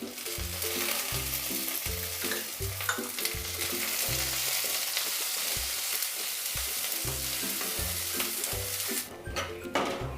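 Chopped tomato, about two tablespoons, fries in a pan with a steady loud sizzle throughout, broken by rhythmic scraping stirs, close and continuous with no talk.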